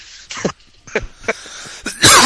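A few harsh coughs and throat-clearing bursts in quick succession, close and loud, ending in a heavier rasping cough.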